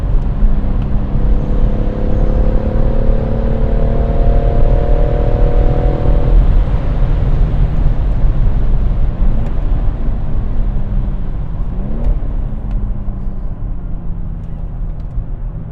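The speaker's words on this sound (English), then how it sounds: "That's the Mustang." Ford Mustang driving past on the Goodwood circuit in the rain, heard as a steady engine drone with rising and falling pitch sweeps, fairly loud under constant road and cabin noise.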